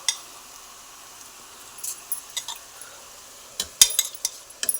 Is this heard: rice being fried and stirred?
yes